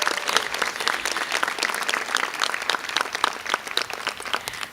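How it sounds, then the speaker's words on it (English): A room full of people at a nursing pinning ceremony claps steadily, a dense patter of hands that holds strong throughout. "So give them a big round of applause."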